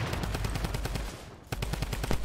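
Gunfire during a Fortnite sniper battle: loud, close, rapid bursts of repeated shots, continuous with a brief lull midway before the firing resumes.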